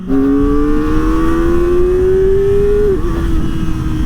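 A Kawasaki ZX-4RR 400cc four-cylinder motorcycle engine revs steadily upward in pitch for about three seconds, then drops back briefly before holding a loud, continuous buzzing drone.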